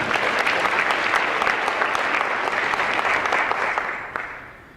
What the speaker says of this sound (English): So you can stop saving your applause for Cathy Calhoun